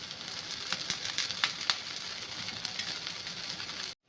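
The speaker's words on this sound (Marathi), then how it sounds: "आता थोडंसं तेल घालून घ्यायचं आहे, म्हणजे खालच्या बाजूने पण असं चांगलं क्रिस्पी होऊन द्यायचं आहे." Poha snack frying in oil on a flat pan, a steady close sizzle with scattered sharp crackles and pops, alone without talk, cutting off abruptly at the end.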